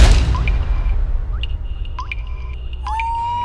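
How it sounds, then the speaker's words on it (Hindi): Water drips from a tap in a bathroom, a few distinct resonant plinks spaced about half a second apart, close and clear against a quiet background. "और अब नल का टपकना"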